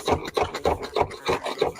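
Screwdriver scraping and chipping at rock-hard material stuck to a floor, a close, steady series of about six rasping strokes in an even rhythm.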